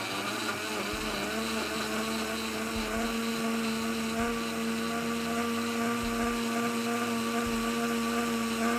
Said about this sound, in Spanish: Vamos a pasar a activar la licuadora, ¿sí?